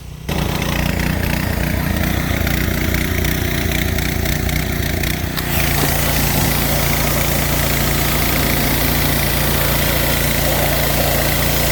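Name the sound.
pressure washer running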